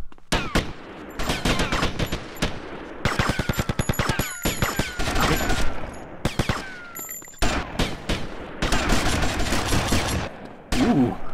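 Loud, rapid automatic gunfire in GTA Vice City, sustained bursts of evenly spaced shots broken by short pauses, close and punchy throughout with almost no talk.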